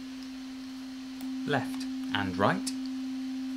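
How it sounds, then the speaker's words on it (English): A steady sine wave from the VCO module in VCV Rack software synth holds one constant pitch the whole way through, starting quietly and continuing under a few short spoken words. "So I'm going to patch the sine wave output into our audio interface"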